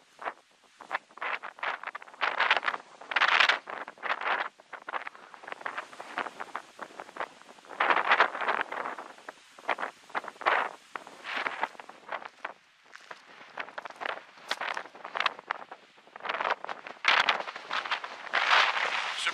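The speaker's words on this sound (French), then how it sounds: "C'est extrêmement venteux comme on peut sûrement l'entendre à la caméra" Strong wind buffeting a camera microphone outdoors on a trans-Labrador trip, loud irregular gusts thumping and rushing in bursts throughout, with no talking.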